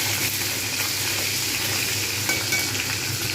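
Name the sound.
dried and green chillies frying and stirred in pan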